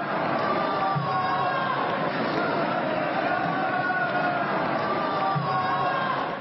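Group of high school students at Lazăr High School booing George Simion at the start of his speech: dense, steady crowd noise of many voices, distant and muffled, continuous throughout.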